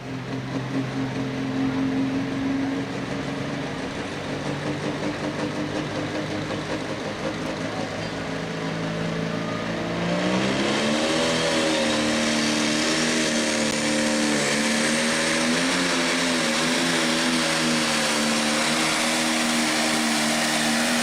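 Pro Stock tractor engine roaring down the track at a county fair tractor pull, a loud sustained drone that climbs in pitch and intensity midway as it pulls, with no talking over it.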